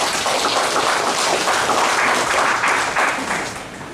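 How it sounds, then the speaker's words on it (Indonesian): Steady, loud applause from a church congregation celebrating an engaged couple at their betrothal mass, dense clapping filling the room for several seconds before easing slightly at the end. "Mari kita beri aplaus untuk mereka sekalian."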